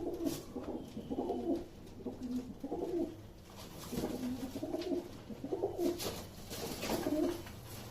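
Several pet pigeons cooing in repeated soft, throaty phrases at a steady rhythm, close by, over a faint background hum with no talking.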